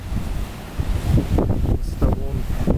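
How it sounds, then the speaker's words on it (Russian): Rough Black Sea surf breaks on the shore at Yalta, Crimea, with loud roaring waves and gusting wind buffeting the microphone. "Вот оно, неспокойное море Крыма,"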